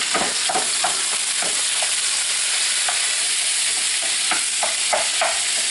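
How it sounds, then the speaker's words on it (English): Ground beef for tacos browns in a pan with a constant close sizzle and crackle, broken by scattered clicks and scrapes of stirring. No voices. "Browning beef for tacos."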